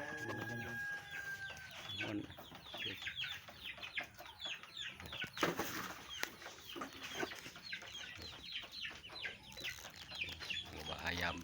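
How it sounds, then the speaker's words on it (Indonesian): Chickens cluck busily on a chicken farm, with a rooster crowing among them and a dense, continuous chorus of clucks and squawks that are moderately close but fairly quiet. "tuh ternak ayam"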